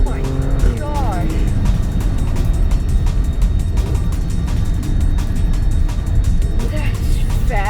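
An Alfa Romeo Stelvio Quadrifoglio's engine roars loud and close, with quick blips and pops as it downshifts, under excited talk from people inside.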